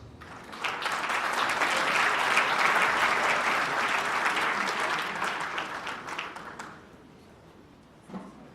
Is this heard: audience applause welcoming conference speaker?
yes